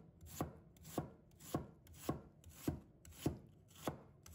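A knife cuts half an onion into strips on a cutting board, with quiet, evenly spaced chops about every half second, close and alone.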